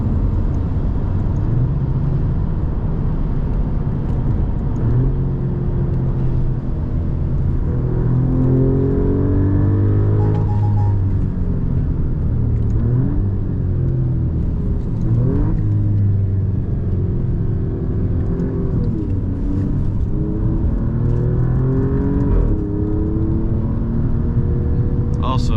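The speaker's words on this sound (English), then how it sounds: "those upshifts and the overrun on this are amazing" An Alfa Romeo Quadrifoglio Italian sports sedan driven through rain, its engine rumbling and revving through repeated upshifts with rising and falling pitch and overrun burble, loud and continuous from inside the cabin, with someone talking over it.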